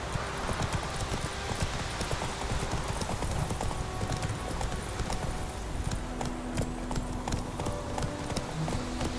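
Horse hooves clip-clopping in the video game The Witcher 3, a steady rhythmic trot of hoof strikes with game ambience beneath and a brief voice.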